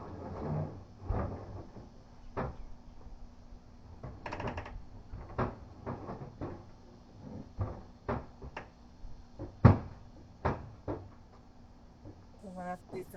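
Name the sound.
cupboard doors opening and closing in mudroom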